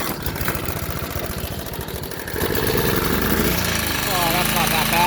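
An old 4HP diesel engine starting cold after a single pull, a rough mid-pitched idle that steadies and grows louder partway through, heard up close with a voice speaking over it.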